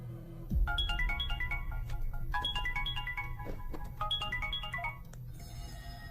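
A phone ringtone for an incoming call plays a repeating melodic pattern in three bursts over a low background hum, loud and close, with no talk, in a Telugu feature film scene.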